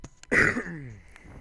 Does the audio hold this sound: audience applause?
no